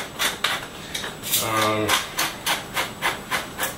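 A pepper mill grinds fresh pepper in short, rhythmic rasping twists, about a dozen quick turns in a steady run, close and moderately loud, with a brief voice partway through.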